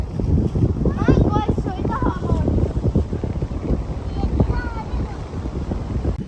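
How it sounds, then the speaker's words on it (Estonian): A strong, warm, wild wind on a beach buffets the microphone in constant low gusts, while voices talk over it throughout. "Siin on küll metsik tuul, aga see on väga soe."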